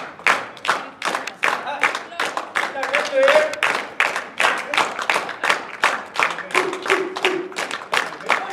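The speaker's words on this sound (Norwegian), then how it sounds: "Applaus til begge to, 10-6 og 10-7!" Rhythmic clapping from a modest crowd at a shooting competition final, distinct separate claps beating at an even pace, with brief voices and a short whistle-like tone audible beneath.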